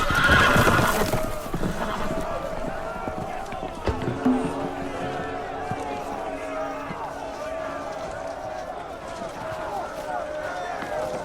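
Horses whinny loudly at the start in the video game Game of Thrones, followed by galloping hooves and a confused background of voices and commotion.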